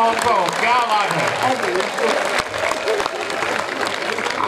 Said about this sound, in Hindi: और आप एक बार मिलकर तालियां बजाएं